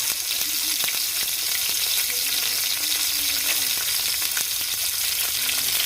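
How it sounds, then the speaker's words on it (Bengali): Whole village crabs fry loudly in a pan, giving a dense, steady sizzle with scattered crackles and pops throughout, close and unbroken. "এই ফার্স্ট আমরা কাঁকড়া ফ্রাই করছি পুরো গোটা"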